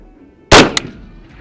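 A single sharp rifle shot from a rifle fitted with an AGM thermal scope during zeroing, loud and close, with a short echo trailing off and no talk.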